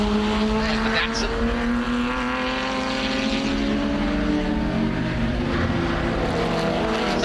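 Vintage Datsun race car sweeps by at Mid-Ohio, its engine note loud and shifting in pitch amid other racing engines, while a commentator talks over it.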